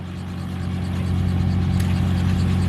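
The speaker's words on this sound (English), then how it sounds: "Listen to that motor." A truck engine runs at an outdoor fly-in event, giving a loud, steady low rumble with a firm droning hum that holds even throughout, with no talking over it.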